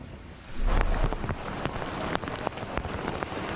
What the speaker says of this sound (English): The rain in New Jersey has been coming down for hours now